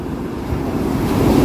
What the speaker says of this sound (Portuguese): Já fechou o tempo, olha como é que tá o mar.